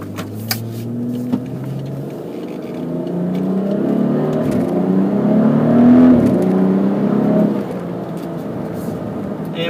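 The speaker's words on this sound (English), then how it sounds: "When I do put it in sport mode, your exhaust note will get even louder." A 2017 BMW X4 M40 engine revs up in sport mode and roars louder, a deep exhaust note building and holding before easing off, heard from inside the vehicle.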